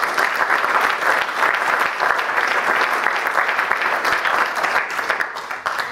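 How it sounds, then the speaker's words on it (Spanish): A church congregation claps as an offering of praise during a sermon, a full, continuous roar of hands close by that keeps going at an even level and eases slightly at the end. "Dale una ofrenda de palmas a nuestro Señor."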